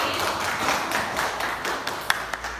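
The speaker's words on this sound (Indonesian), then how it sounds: "tepuk tangan untuk ini" A small group claps in a classroom setting, with scattered, uneven claps tapering off into a few distinct isolated hits near the end, moderately loud and close.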